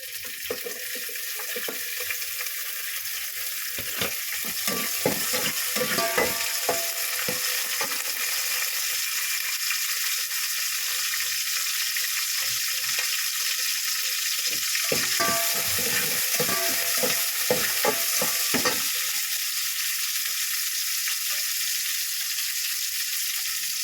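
Garlic and onion sauté in a pan, a steady broadband sizzle running throughout with bursts of stirring and scraping clatter around the middle and later, close and alone with no voices.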